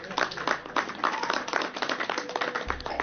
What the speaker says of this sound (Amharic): ስለ አገልጋዩ ፓስተር ኤፍሬምን እግዚአብሔር ይባርክ ብላችሁ አጨብጭቡለት።